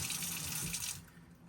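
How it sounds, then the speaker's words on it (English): Close, steady water running from a tap into a sink while making tie dye, a continuous splashing hiss that thins out near the end. "Let's add some water to that one."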